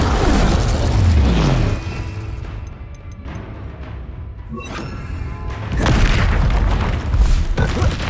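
An Incendio fire spell in Hogwarts Legacy erupts with heavy booming blasts at the start and end, separated by a quieter stretch of crackling, sweeping effects and faint scattered hits.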